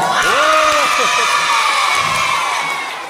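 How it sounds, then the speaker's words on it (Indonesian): A crowd of school children at a school closing ceremony cheers and shouts loudly and steadily, with a few higher whoops near the start before the noise fades slightly. "Perwakilan dari kelas 5 tepuk tangan sekali lagi yang kuat"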